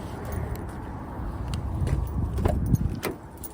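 Keys jangle close by as a car is unlocked with its key fob, a few sharp clicks and clacks over a low steady rumble of the vehicle, with no talk.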